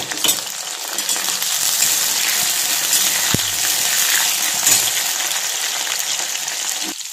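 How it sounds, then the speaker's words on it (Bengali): Potatoes and tomato fry in a pan with bay leaf and dried chilli, giving a steady, close sizzle with a few light clinks of stirring throughout. "এবার আমি আলুটা একটু ভেজে নেব"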